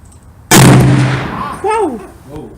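A single sharp, very loud shot from a Smith & Wesson 460 Magnum XVR revolver cracks out, then its boom rings down while a voice exclaims right after.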